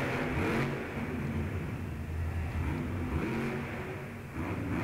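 The Gravedigger monster truck roars in an indoor arena at a Monster Jam show in Little Rock, its engine surging and revving hard in waves under the constant crowd din and echo.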